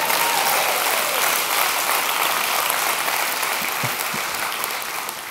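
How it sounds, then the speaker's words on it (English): An audience at a church talk gives a steady round of applause, a dense continuous wash of clapping that holds for several seconds and tapers slightly at the end, with no speech over it. "Round of applause for Jeff."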